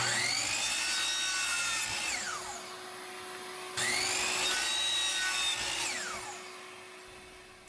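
A wooden board is cut to a 2-inch height for a boot jack base, a harsh, rasping cut with a whining tonal edge in two long strokes, loud and close with no talking.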